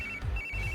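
A phone ringtone plays in short repeating bursts, a steady electronic tone pulsing twice in under a second, close and clear with no talking.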